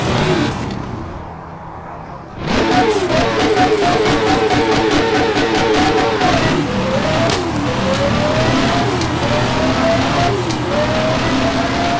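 An 800 horsepower car racing in a game revs up sharply after a quiet start, then holds a loud, close engine roar with repeated climbing gear pulls and shifts.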